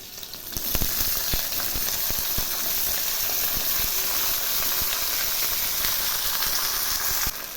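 Pumpkin leaf vegetables frying with black cumin and green chillies, a loud, dense, hissing sizzle with steam that carries on steadily, broken by occasional sharp crackles and spatula knocks.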